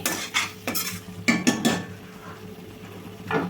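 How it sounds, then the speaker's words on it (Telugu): A spoon stirs and scrapes a veg manchurian mixture in a metal pan, giving repeated clinks and scraping strokes with a faint sizzle underneath, close and fairly loud, with no talking. "ఒకసారి బాగా కలుపుకోవాలి"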